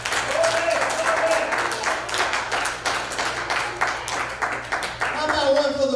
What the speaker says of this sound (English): Let's give the Lord one more hand clap.